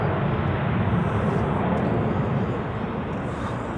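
An Icelandair airliner's engines roar on runway 32 at Zurich Airport on a crosswind day, a loud, dense and steady rumble that eases slightly toward the end.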